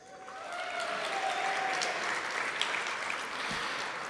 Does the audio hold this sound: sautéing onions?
no